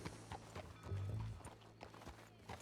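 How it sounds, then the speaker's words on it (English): Rhythmic clip-clop of a player's horse in an online Western game trotting close by, quiet and steady, with a brief low snort in the middle. "That is a player horse"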